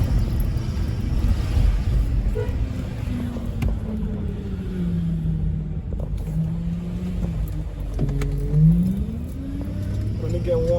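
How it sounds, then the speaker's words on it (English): An Audi Q7 4.2 V8 idles with its power steering whining from overfilled fluid, a tonal whine wavering in pitch over a steady engine rumble, close and continuous. "The noises that I'm having right now are power steering noises, because I overfilled the power steering fluid,"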